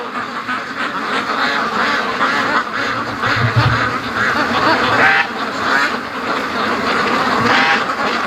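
Muscovy ducks quacking near a foggy pen by a lake, a steady loud flurry of calls overlapping one another, with rustling and movement mixed in and no talking.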